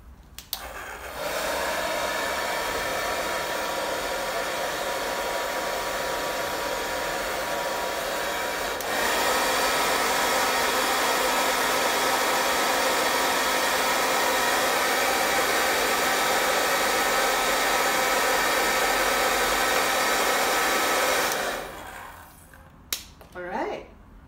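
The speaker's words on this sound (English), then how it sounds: "I have to use my hair dryer now just to dry things a little quicker." A hair dryer blows continuously for about twenty seconds to dry acrylic paint on a street-lamp night-sky painting, steady and close, shifting to a louder setting partway through before switching off with a few clicks.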